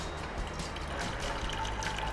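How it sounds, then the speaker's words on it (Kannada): Water is poured into a cooking pot for boiling chana dal, a steady close trickling splash that runs through the short stretch without talk. "ನೀರು ಹಾಕ್ಬೇಕು ಮೇಡಮ್."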